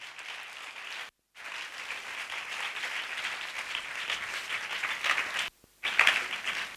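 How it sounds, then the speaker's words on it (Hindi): Congregation applauding in a church service, steady broadband clapping from many hands filling the room, broken by two brief silent gaps before the applause swells again. "एक बार खुदा बाप के लिए ताली बजाएंगे"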